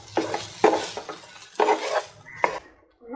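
Chicken masala for chatti pathiri stirred in a pan, utensil scraping and clattering in several rhythmic bursts with a soft sizzle underneath, close and fairly loud, no voices.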